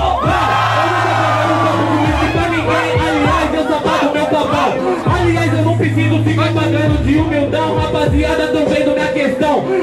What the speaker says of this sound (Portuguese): Eles estão gritando seu nome